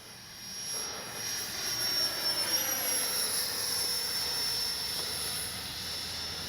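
An E-flite Viper 64mm EDF RC jet flies overhead with a steady, fairly loud ducted-fan whine whose pitch drifts slightly as it passes, alone with no talk.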